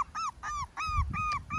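A puppy wearing a green collar whimpers in a run of about five high, whining cries with short gaps between them, close and clear with no talk.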